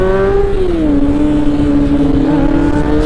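Motorcycle riding along Marilaque highway in the Philippines, a loud steady engine drone with a pitch that drops then holds even, close to the rider, with wind noise and no talk.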